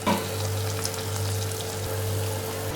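Twisted donuts fry in oil over a low flame, giving a steady, close sizzle with a low hum underneath, unbroken and with no voices.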